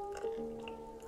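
Water poured onto the potting soil of a rattlesnake Calathea houseplant indoors, a brief soft trickle and drip under a faint steady tonal background, with no speech.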